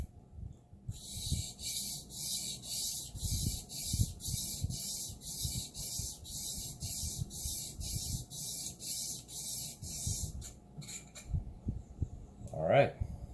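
A clipper blade is rubbed back and forth on the fine side of a sharpening stone, producing a regular rhythmic scraping with short pauses, close and fairly soft, alongside a pulsing high hiss.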